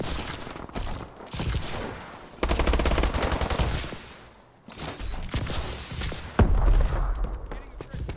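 Call of Duty gameplay with bursts of automatic gunfire and single shots, loud and close, broken by brief pauses and thuds, with voices talking over parts of the action.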